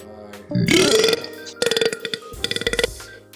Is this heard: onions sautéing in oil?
no